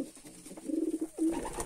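A pigeon sitting on its eggs coos nearby in a low, throaty rolling burst, followed by a second shorter coo.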